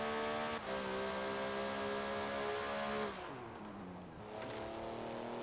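In the racing game Forza Horizon 3, a Porsche 997 GT3 engine howls steadily at high revs, dips through a gear change, then climbs again, loud and close with no talking.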